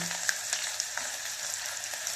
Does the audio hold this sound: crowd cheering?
no